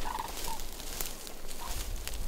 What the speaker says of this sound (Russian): Это журавли летят.